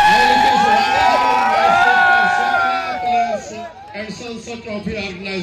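Cheering crowd at a cricket trophy event with guest cricketers in Satna, loud dense shouts and whoops throughout, fading a little toward the end with scattered voices over the noise.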